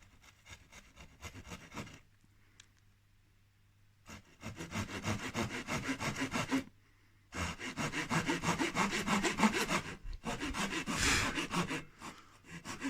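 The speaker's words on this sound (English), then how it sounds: "we'll just be doing this angled cut now" A hand saw cuts an angled kerf in wood for a sash window weight door, rhythmic rasping push-pull strokes in several bursts split by short pauses, close and clear with no talking.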